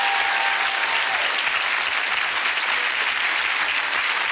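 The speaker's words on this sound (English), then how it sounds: "give him a big round of applause." A theatre audience bursts into loud, sustained applause, dense clapping that fills the room evenly from start to finish with no voices standing out.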